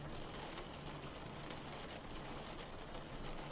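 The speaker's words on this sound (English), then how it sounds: "In the rain?" Steady rain falls in a dense, even hiss that continues without a break, with no voices or other distinct sounds.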